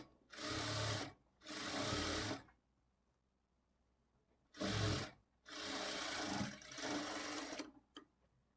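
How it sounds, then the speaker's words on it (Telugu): Sewing machine stitching a blouse, running in steady loud bursts of about a second or more, with short quiet pauses between the runs. "ఇప్పుడు మరలా ఈ చివరన ఈ విధంగా ఒక స్టిచ్ వేసుకోవాలి."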